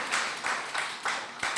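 A church congregation claps at a Pentecostal service, a steady broadband patter of many hands that swells in short waves across the brief moment, fairly close and with no voices.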